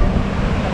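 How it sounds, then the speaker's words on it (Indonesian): Fairly high ocean waves at Pantai Muda beach in Blitar, heard as a loud, continuous wash of surf with wind buffeting the microphone, close and steady. "Ombak lumayan tinggi."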